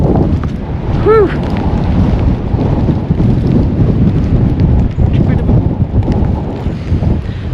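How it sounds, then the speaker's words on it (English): Strong wind during a slushy blizzard roars and buffets the microphone in a loud, continuous rumble outdoors, with a brief whistling tone early on. "It is super windy."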